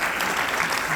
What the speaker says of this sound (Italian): allora ho detto fatti un applauso